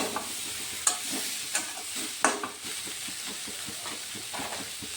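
Rohu fish curry stirred with salt in a pan, the spoon scraping in a steady rhythm of close clicks over a constant low sizzle, with a few sharper knocks against the pan.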